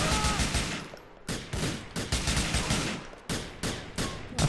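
Rapid bursts of gunfire in the video game GTA 4, several loud volleys of automatic shots separated by brief pauses, close and dominant with no talk over them.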